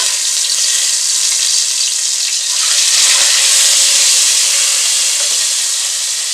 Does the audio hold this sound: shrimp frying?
yes